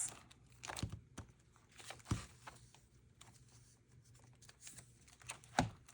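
Paper money bills being folded and handled for cash envelopes, producing soft, quiet crinkles and sharp paper snaps in irregular bursts, close up with no talking.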